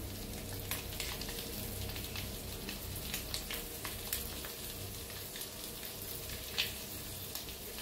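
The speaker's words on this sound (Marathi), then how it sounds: "दुसरी बी अंडे फ्राय करायला लावून घेतले बघा" Eggs fry in a pan with a steady, close sizzle and crackle, with small pops scattered throughout and no talking.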